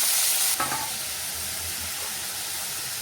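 A hot pan's loud, steady sizzle of mustard-seed and curry-leaf tempering jumps as peas and potato drop in, then settles into a continuous hiss with a few soft stirring scrapes.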